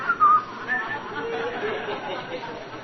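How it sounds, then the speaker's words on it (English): A few brief whistled notes ring out near the start over a background of murmuring crowd chatter and a little laughter. "and then I start whistling"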